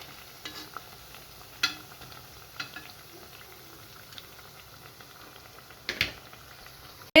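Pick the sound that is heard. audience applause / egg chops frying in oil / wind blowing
egg chops frying in oil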